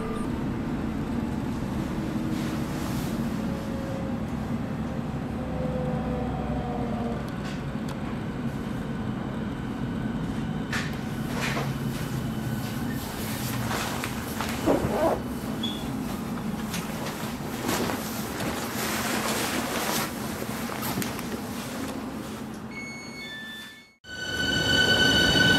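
An S-Bahn class 484 train pulls out of Neukölln station toward Hermannstraße on the S47, with a continuous rolling rumble and wheel noise from onboard and brief squeals and clanks. Near the end it drops out sharply and then returns.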